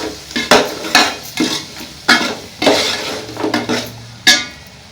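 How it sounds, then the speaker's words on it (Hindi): A spoon stirs chicken and masala in a pot for haleem, producing close, irregular scraping strokes and clinks against the metal over a faint sizzle. "अब इन सब चीज़ों को मिक्स कर लेंगे। चिकन के साथ मिक्स हो जाए मसाला।"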